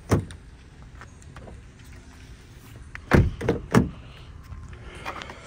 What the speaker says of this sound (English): Let me unlock the car.